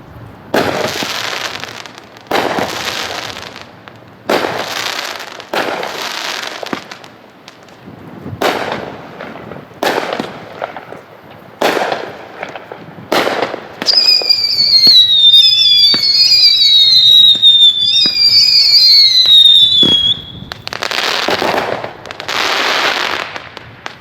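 A Hot Shot 'Rapture' firework cake fires its 17 shots outdoors as a rapid series of loud booming bursts, with a stretch of whistling, crackling effects in the middle before the final bangs.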